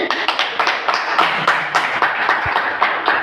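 Audience clapping at a seminar in a hotel hall: uneven, thin applause with distinct separate claps in a steady patter, fairly close and moderately loud, without talk.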